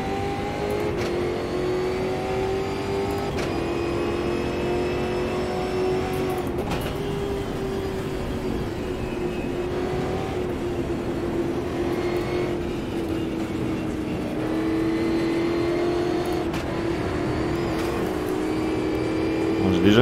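Stock Car 2022 racing engine on the Buenos Aires circuit in Automobilista 2, a loud sustained drone with shifting pitch that rises and falls through long straights, steady throughout with a slight surge at the end.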